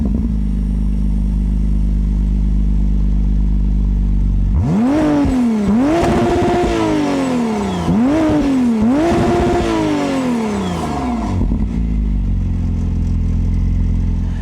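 A 2025 McLaren Artura Spider, an electrified supercar, starts up loudly and then revs in four sharp, rising bursts, each falling away before the engine settles to a quieter idle, with no talking.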